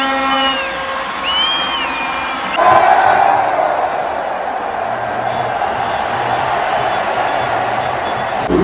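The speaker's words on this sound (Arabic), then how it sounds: "الجمهور البيني حاضر سوا معانا" Benin football supporters in a stadium during a match against Morocco, a loud, continuous crowd roar that surges into shouting and cheering after a few seconds and stays dense throughout.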